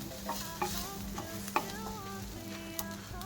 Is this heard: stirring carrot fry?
yes